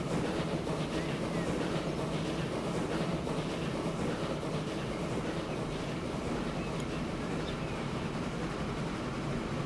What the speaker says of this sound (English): Southampton to London on a train via Basingstoke and a few other places.